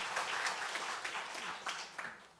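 A church congregation claps in a dense, continuous burst of applause, with a few sharper peaks throughout and no voices standing out above it.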